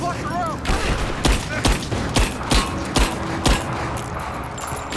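Repeated bursts of gunfire in the Rise of the Tomb Raider video game, sharp shots at uneven intervals over a tense game soundtrack, with brief game dialogue heard early.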